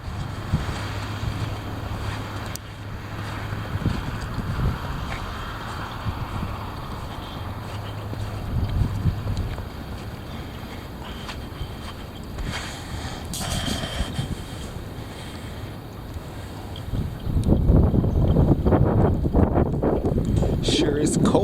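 Strong wind gusts roar across an open outdoor spot on a cold day, rising to a heavy buffeting rush near the end, with someone speaking now and then.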